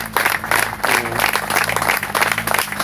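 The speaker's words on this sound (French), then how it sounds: "Applaudissons pour le Seigneur. Continuez à applaudir." Church congregation at a pastors' conference applauding, sustained crowd clapping with rhythmic pulses and some voices mixed underneath.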